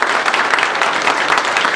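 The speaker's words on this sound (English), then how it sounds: "I think we owe them a round of applause." During a county Board of Chosen Freeholders reorganization meeting, the room breaks into loud, continuous applause, a thick wash of many people clapping at once without a pause.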